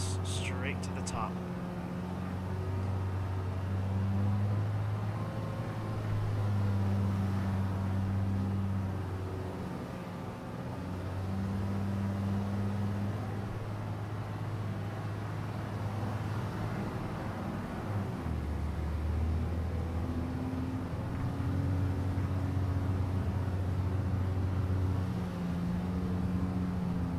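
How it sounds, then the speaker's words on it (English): Car engine in BeamNG.drive climbing cliff roads, a steady tonal hum shifting pitch in long sustained stretches as gears change, continuous and fairly close, with a voice talking over it. "This car has pretty nice sound"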